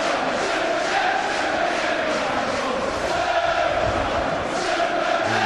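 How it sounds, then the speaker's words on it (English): A football crowd at Selhurst Park roars and applauds Everton's opening goal against Wimbledon, a dense, steady wash of cheering and clapping that fills the whole stretch without a break. "joining in the applause for the opening goal at Selhurst Park"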